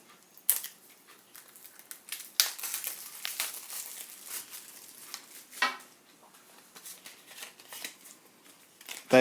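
A new deck of good-quality matte-finish cards unpacked and handled, close crinkling of wrapping and light card flicks and rustles in irregular bursts.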